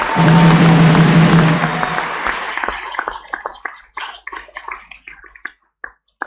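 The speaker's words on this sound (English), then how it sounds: "Can we please put our hands together for them?" Audience applause after a youth dance performance at a Sinulog festival event, a dense burst of clapping that thins into scattered individual claps over several seconds.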